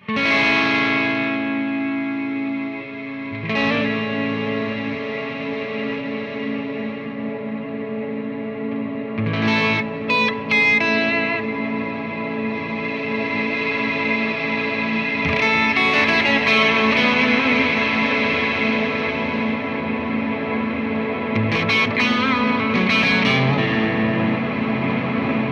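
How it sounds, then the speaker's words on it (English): Electric guitar through a reverb pedal with a low-pass filter on the wet signal: continuous strummed chords wash together in a dense, effected, slightly distorted tail, loud and steady with no voice. "The low-pass filter is applied only to the wet sound, and it works the same way for delays."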